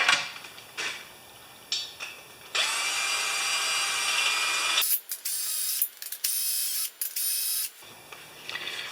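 A power drill with a 14mm socket whirs in several bursts removing a fastener on a Honda GX390 generator, with ratcheting clicks between runs and a brief pause before the final spin.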